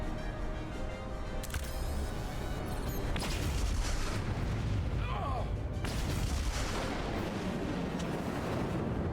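Deep, rumbling detonations in the space game Star Trek Resurgence, with several broadband blasts and crackling debris over a steady low roar, while voices talk over the action.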